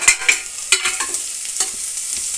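Ginger garlic paste is stirred and fried with browned onions in a pan for a vegetable pulao, giving a steady, close sizzle broken by several sharp scrapes of the spoon against the pan, with no voices.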